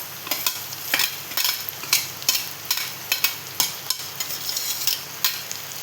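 Drumstick leaves (shevga) sizzle and fry in a pan while a spoon stirs them, giving repeated scraping strokes at a quick, uneven rhythm over a steady bed of frying crackle, close and moderately loud.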